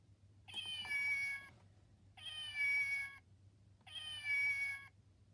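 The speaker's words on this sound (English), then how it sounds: "Yes, says Clara, meowing happily." Domestic cat meowing three times in evenly spaced, drawn-out tonal calls, clear and close over a faint low hum, with no talking.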